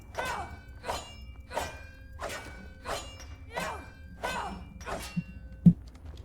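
A pickaxe in Skyrim swings repeatedly at ore while mining, giving about seven evenly spaced, moderately loud strikes with a final sharp thunk, with no talk over it.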